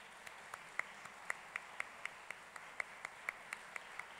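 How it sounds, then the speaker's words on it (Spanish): Sparse, evenly spaced claps from a small audience at a children's theatre awards ceremony, welcoming Viri and Betún; individual hand claps ring out distinctly over a quiet background. "fuerte el aplauso para Viri y Betún"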